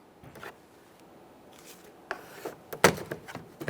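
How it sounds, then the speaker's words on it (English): Plastic trim tool pries along the groove of a 2004-2008 Ford F-150 door switch panel, soft rubbing scrapes building to sharp plastic snaps and clicks near the end, close and quiet. "We're just going to make our way right along this groove,"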